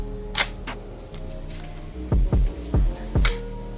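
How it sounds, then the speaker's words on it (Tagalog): Metallic clicks and snaps from a TMI N4 gel blaster with a metal gearbox, a few light clicks followed by four crisp, close bolt-release clacks in quick succession. "At may bolt release feature. So pakinggan natin."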